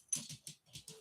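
A dog moves close by indoors, giving off a series of soft pattering and scuffling bursts in a quick, uneven rhythm, with no talking.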